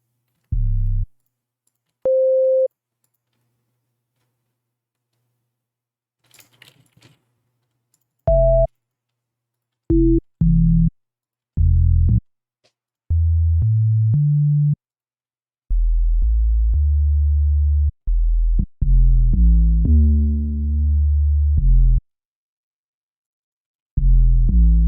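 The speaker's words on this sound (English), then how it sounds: "this 808 bass itself is not really" An 808 bass synth in a drum and bass production plays alone as loud, clean low sustained notes in a broken rhythm, with occasional higher pitched tones and short gaps of silence between phrases.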